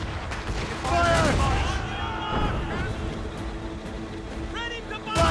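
Ship cannons firing in Assassin's Creed Rogue, heavy booms rolling under shouted crew orders and constant sea and wind noise, several blasts spread through the scene.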